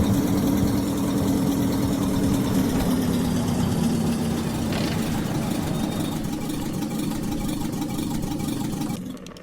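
A car engine in The Long Drive runs steadily at a low, droning idle, its rumble even and close throughout before fading slightly at the end, with no voices.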